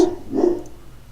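A dog barks nearby, one or two short, sharp barks in a quiet room, fairly loud and on its own.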